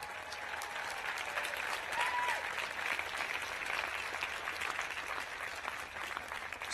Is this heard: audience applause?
yes